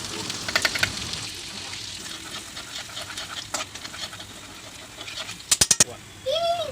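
Ginger and garlic sizzling softly in oil in a kadai, with a steady low frying hiss punctuated by a few sharp metallic clinks and stirring scrapes near the end.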